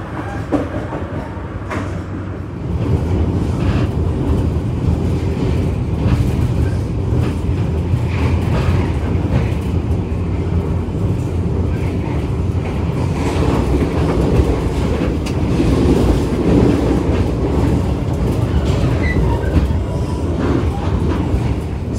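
KA Arjuno executive train running on rails between Sidoarjo and Porong stations, heard from inside the carriage as a steady, loud rumble with rhythmic clickety-clack of wheels over rail joints throughout.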